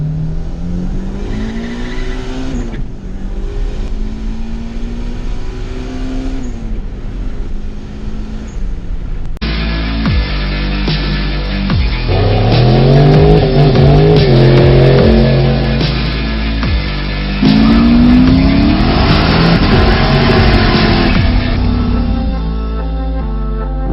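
A turbocharged Honda GSR EG hatchback accelerating hard in second gear: a loud, rising engine roar that climbs in pitch, breaks at a shift, then builds again with strong turbo whine, with no talk.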